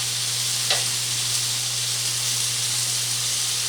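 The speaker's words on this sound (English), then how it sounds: "Just gonna let that thicken up a little bit and cook out any potential bacteria from that sitting in there raw." Saffron-marinated shrimp marinade sizzles and bubbles steadily as it thickens in a pan, a close, even frying hiss with a faint low hum beneath and no talk.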